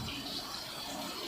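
A river running fast gives a brief, faint, steady rush of moving water.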